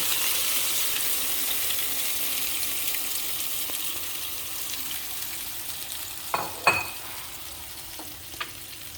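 Beaten egg hits a hot pan of bitter gourd and mince pork for an omelette, giving a steady close sizzle of frying with a few sharp stirring clatters near the end.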